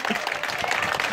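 An audience at a street inauguration event in San Antonio de Aguirre applauds with dense, continuous clapping heard close and fairly loud, mixed with voices.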